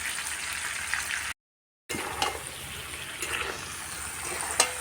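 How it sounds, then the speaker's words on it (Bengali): Mango pieces fry in a pan with turmeric and salt for a sweet, sour and spicy pickle. A steady close sizzle and crackle carries on, with a brief full dropout and a few sharp pops and stirring clicks after it. "এই যে 5-7 মিনিট আমি ভাজে নিয়ে নিলাম আমটা"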